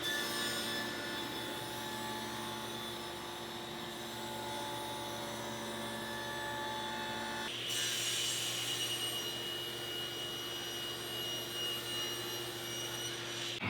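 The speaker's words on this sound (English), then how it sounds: "while I still have the stacked dado set installed in my table saw, I'm going to make a dado to receive a T-track" A table saw fitted with a stacked dado set cuts a dado into MDF for a T-track, a steady, loud whining drone with a shift in pitch and intensity partway through as the blade engages the board.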